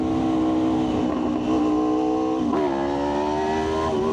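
Aprilia RSV4 1100 Factory motorcycle engine held at a loud, steady high-rpm drone, briefly dipping then pulling up again, close and continuous with no talking.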